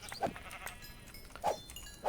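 Sheep bleating in Minecraft, three short, nasal bleats spaced unevenly over about two seconds against faint background noise, with no talking.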